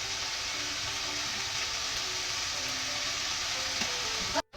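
Chicken adobo sizzles steadily in a pan as soy sauce goes in, giving a dense, even hiss of frying at close range that ends abruptly, with no talking.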